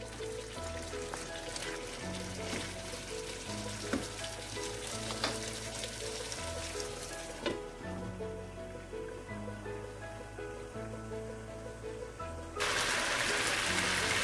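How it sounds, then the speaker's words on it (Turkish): Chicken pieces for Turkish chicken stew fry in a pan, releasing their juices and cooking them back off, with a steady, dense sizzle and crackle that turns louder and brighter near the end. "Bir 15-20 dakika kadar tavuklar suyunu salıp tekrar çekene kadar kızartacağım."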